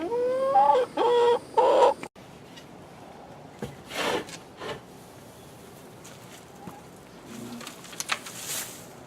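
Chickens in a coop: a few loud, close clucks and squawks open the sequence, followed by quieter scraping, rustling and scattered knocks as the coop is cleaned.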